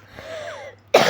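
A woman coughs once sharply at the end after a short stretch of quiet, close and loud.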